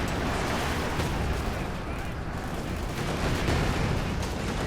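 Artillery barrages and gunfire from the real-time strategy game Company of Heroes 2 pound continuously in a dense, rumbling wash of explosions across the whole stretch, with no voice over it.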